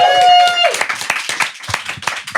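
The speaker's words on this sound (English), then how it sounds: "I think it deserves a complete round of applause." A small group in a home breaks into clapping after a held vocal note, the claps close, scattered and uneven, with voices talking over them.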